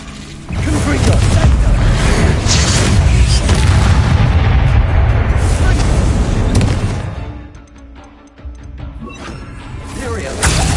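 The Confringo fire spell explodes in the Hogwarts Legacy video game, a loud, sustained, booming and crackling blast with a rumbling tail that fades, then swells again near the end, while a voice speaks.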